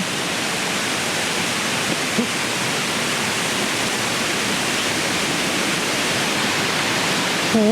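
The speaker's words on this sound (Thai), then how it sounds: "นี่ก็น้ำตกอีกอันหนึ่งเหมือนกันอะลรเนี่ย" A waterfall along a forest trail in Chiang Mai, a constant broad rushing roar of falling water, close and steady throughout with no other sounds standing out.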